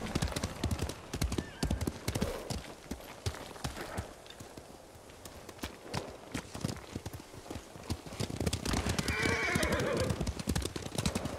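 Horses gallop in Ghost of Tsushima, steady hoofbeats pounding close and loud throughout, with a horse whinnying sharply near the end over the running rhythm.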